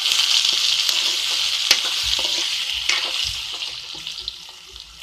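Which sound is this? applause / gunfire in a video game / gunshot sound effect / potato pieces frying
potato pieces frying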